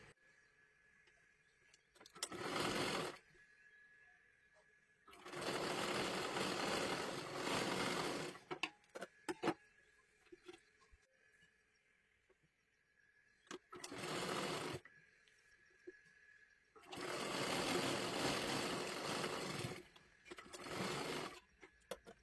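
A domestic sewing machine stitches a blouse sleeve in several loud runs of whirring, separated by quiet pauses, the longest bursts lasting a few seconds each.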